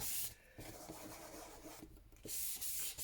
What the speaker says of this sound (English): rub some age lines up and down my page.